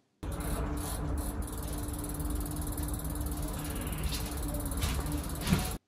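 Ratcheting, clicking mechanical sounds from fitting the chain onto a 1991 Peugeot Izoard vintage road bike during restoration, a steady close clatter with faint metallic ticks throughout and no talking.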